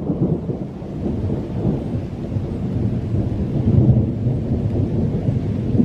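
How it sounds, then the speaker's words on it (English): Thunder from an approaching thunderstorm at Iroquois Park rolls in a low, continuous rumble, swelling slightly louder toward the middle and end, with no talking over it. "Thunder is getting a little louder now."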